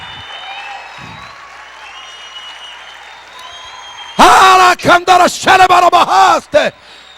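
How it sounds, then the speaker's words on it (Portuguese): Church congregation claps in loud, ragged bursts after a stretch of quieter murmuring and voices, the clapping coming in several strong waves with short gaps, shouting voices mixed in. "Aplauda mais!"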